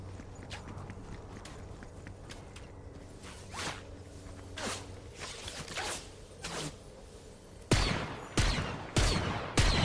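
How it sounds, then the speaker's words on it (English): Gunfire in the Fortnite video game comes as a scattering of sharp cracks and shots, some faint and distant, with a louder cluster of close bursts near the end over a low background hum. "Although I do keep hearing shots."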